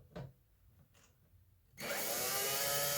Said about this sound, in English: Be careful if I use the power drill to screw them back in